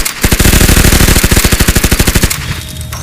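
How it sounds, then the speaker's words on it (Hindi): Rapid cartoon machine-gun fire as aliens shoot at a grandmother's flying van, a loud sustained burst of evenly spaced shots that stops abruptly before a quieter tail. "एलियंस दादी की वैन पर ताबड़तोड़ गोलियां चलाने लगते हैं"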